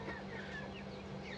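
Soft, continuous clucking from white American Silkie chickens, a few birds murmuring close by over a low steady hum.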